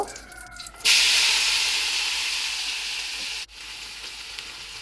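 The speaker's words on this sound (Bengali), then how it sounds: "ভেন্ডিগুলো ভাজি করে নিব" Okra hits hot oil seasoned with salt and turmeric in a pan, bursting into a loud, steady sizzle that fades slightly over a few seconds, dips briefly, then continues frying alone.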